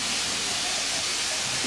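Steady broadband hiss of steam escaping from a 2'6" narrow gauge steam locomotive on the footplate at the St. Nicholas Abbey Heritage Railway, continuous and fairly loud with no voices.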